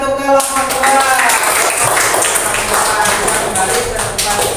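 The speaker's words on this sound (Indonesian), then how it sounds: "beri tepuk tangan untuk kelompok 2" A classroom of primary school students claps for a student group, a dense steady patter of many hands lasting several seconds under a murmur of voices.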